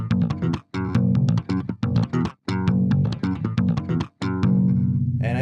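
A slap guitar lick played with slapping and popping: sharp percussive thumb slaps and snapping plucks in a quick syncopated rhythm over ringing low notes, with brief gaps between phrases and a sustained note at the end, loud and close with no talking.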